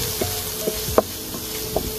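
Whole mushrooms frying in a pan as part of an eggplant recipe, giving a steady close sizzle with a few soft scrapes and taps from stirring.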